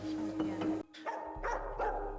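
Dog barking in a TV drama scene, a few short barks breaking through the soundtrack, followed by a low steady hum with more faint bursts.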